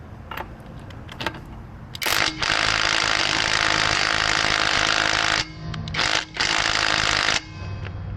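A Hyper Tough 12V cordless impact wrench hammers at lug nuts in a loud, dense buzzing burst lasting several seconds, briefly cuts out, then resumes for another long hammering run, with lighter clatter before it starts.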